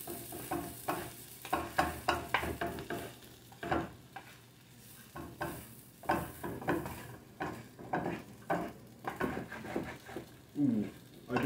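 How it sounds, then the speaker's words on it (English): Egg being stirred into fried rice in a hot pan, with a steady sizzle under repeated scraping strokes of a utensil against the pan, close and fairly loud. "You stir it into the rest of your rice."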